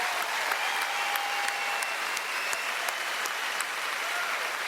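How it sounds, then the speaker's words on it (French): Steady, dense audience applause fills a comedy gala hall, many hands clapping continuously at an even level with a few sharper claps standing out. "Applaudissez!"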